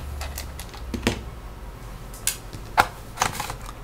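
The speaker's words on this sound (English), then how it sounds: "So undo that screw." Small screws being undone on a Toshiba Tecra R950 laptop during disassembly, heard as a few faint, sharp clicks and taps spaced irregularly in a quiet room.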